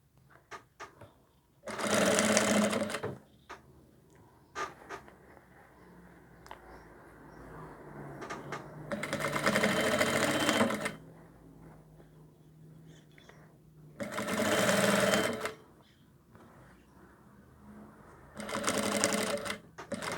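Sewing machine stitching a seam on a jacket sleeve runs in four loud bursts of steady whirring, with quiet pauses and faint handling noises between them.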